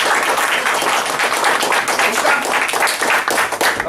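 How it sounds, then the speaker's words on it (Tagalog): Audience applause at a Singapore training seminar, a dense and loud continuous clapping from a crowd. "Salamat po sa palakpak ninyo."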